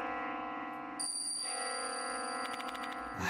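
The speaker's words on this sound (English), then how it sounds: "Where is this bell sound coming from?" Eerie bell tones in the Spirit Hunter: Death Mark II horror game: sustained ringing pitches over a low drone, with faint quick chiming strikes near the end.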